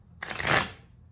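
A deck of tarot cards is riffled once in a quick, close burst of soft papery flutter lasting about half a second, alone in a quiet room.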